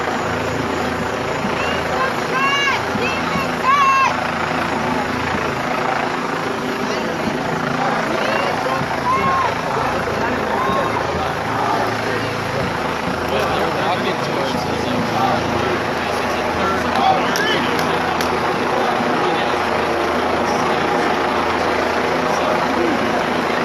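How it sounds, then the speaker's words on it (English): Two police helicopters fly low overhead, their rotors giving a constant loud, throbbing drone through the whole stretch while people talk nearby. "There's still 2 police choppers overhead."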